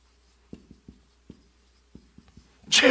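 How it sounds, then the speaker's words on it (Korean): Chalk taps and strokes on a classroom-style blackboard as someone writes. Short, distinct knocks come in small irregular clusters, close and fairly quiet in a still room, then a louder rustling burst follows at the end. "제가 칠판을 잠깐 쓸게요."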